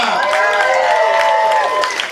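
Audience of country music fans at a midnight comedy show cheering and applauding loudly, a dense steady roar with whoops and shouts that tapers slightly at the end.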